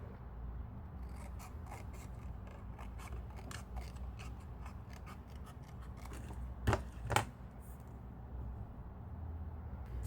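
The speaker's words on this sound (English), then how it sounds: "I'm just gonna cut with my scissors, and I'm gonna trim this down." Scissors snip through white paper in a quiet room, a long run of soft, closely spaced cutting strokes followed by two sharper, louder snips near the end.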